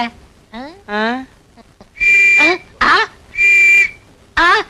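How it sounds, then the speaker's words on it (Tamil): A man who has swallowed a whistle gives off shrill whistle tones in short bursts, some steady and some sliding, amid gasping vocal sounds, with voices around him. "யோ நீ விசில முழுங்கிட்டாயா?"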